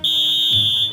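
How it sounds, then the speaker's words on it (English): A whistle at a train station, a shrill steady piercing tone held for about a second, loud and close, with a brief low thump partway through. "Ugh, that whistle"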